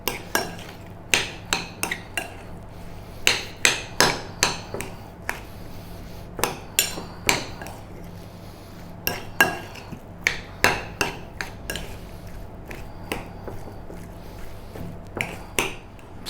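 Spoon or utensil knocking and scraping against a bowl while mixing and mashing potato and feta cheese salad, a series of sharp close clinks in irregular bursts, alone without talk.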